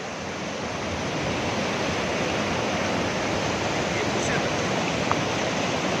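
Deep water flows fast across a road where vehicles get stuck, on the way from Kel to Sharda. It makes a loud, steady, unbroken rushing roar that fills the whole clip.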